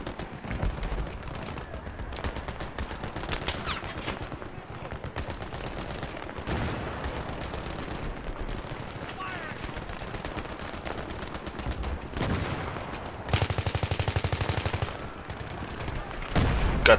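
Gunfire and machine-gun bursts in the military shooter Battlefield 3 campaign: steady rattling automatic fire and scattered shots running throughout at moderate level, with a denser, louder burst near the end and faint talk underneath.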